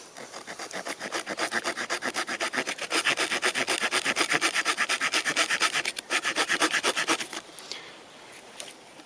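Rapid, steady back-and-forth strokes of a NexTorch Pioneer MT20 multitool's small saw blade rasping through wood, close up, running for several seconds before stopping.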